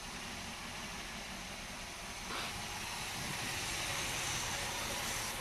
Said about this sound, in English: The 403's running in the 79 Calais.